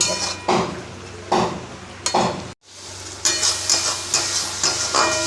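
Ridge gourd mash cooking in a pan, stirred with a spatula in several distinct scraping strokes over a gentle sizzle, close and clear with a brief silent gap midway.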